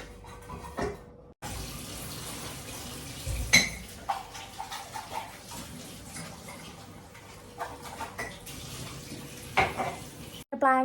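Cups being washed under a running tap at a home birthday celebration, water splashing in a sink with intermittent clinks of cups and dishes close by.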